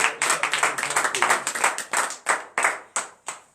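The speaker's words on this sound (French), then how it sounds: "Veuillez vous lever sur vos pieds et donner l'acclamation à Jésus." A congregation at a morning prayer service claps in loud rhythmic bursts. The clapping starts dense and quick, then thins to a few spaced, sharp claps, and voices sound faintly underneath.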